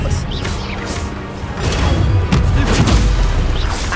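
Spell-casting blasts and booming impacts from duelling in the video game Hogwarts Legacy, including the Expelliarmus disarming spell, loud whooshes and crashes piling up over a steady din with a voice speaking.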